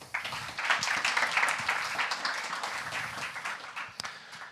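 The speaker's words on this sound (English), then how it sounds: "a great applause to Maciej" Applause at a Flutter developer meetup in Warsaw for a featured developer, a modest room of people clapping, starting abruptly, holding steady, then thinning out toward the end with a few final claps.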